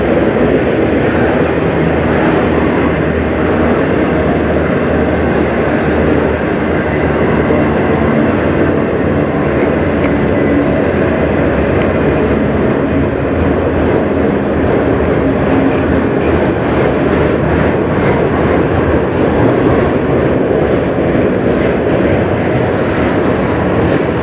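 Loud, close CN freight train of tank cars rolling past on the Strathroy Subdivision, a continuous heavy rumble and rattling wheel noise that holds steady the whole time.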